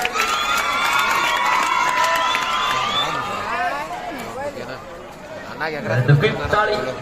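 A crowd cheers and shouts at a kabaddi match between Suragaon and Galagali, with excited voices rising and falling and some whistle-like calls. The noise swells near the end.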